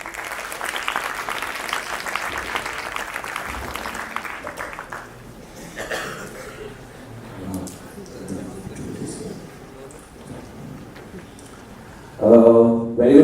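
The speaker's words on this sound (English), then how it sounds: "Let's invite Mr. Arundan Nayak on stage with a round of applause." Applause from an investor and start-up audience at a summit expo as a speaker comes on stage: dense clapping for about five seconds, fading into quieter room noise, then a loud burst at the end.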